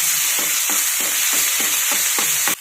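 Ground wet masala paste sautéing in a hot pan, a steady loud sizzle broken by regular scraping strokes of a spoon stirring it, with no voices.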